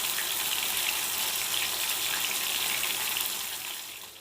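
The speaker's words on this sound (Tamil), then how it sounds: "எண்ணெயை நல்லா சூடு ஏற்றி பொரித்து எடுத்துக்கணும். பாருங்கள், எண்ணெயில் போட்டு பொரிச்சு" Chicken pieces frying in hot oil, a dense, loud hiss and sizzle that stays steady throughout and tapers off slightly at the end.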